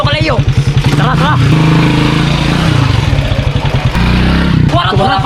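A motorcycle engine putters and drones as it draws near, loud and sustained beneath several excited voices shouting over it.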